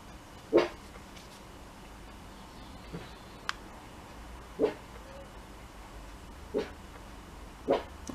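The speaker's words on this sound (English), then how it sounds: "That's Timmy responding to a dog barking away in the distance." A dog barks somewhere far away, faint and spaced out, with about four or five short barks at irregular intervals over a quiet background.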